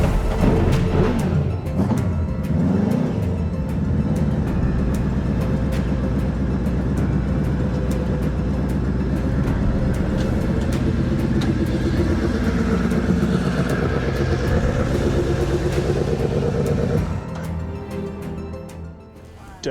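A Suzuki Hayabusa motorcycle engine swapped into a Peugeot 106 runs loud and steady, idling with a rough, continuous drone for most of the clip before easing off near the end.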